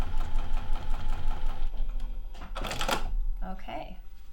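A sewing machine stitches through a vinyl bag handle with a rapid mechanical chatter and low motor hum. It slows and stops partway as fabric is handled, with a louder rustle of vinyl layers near the end.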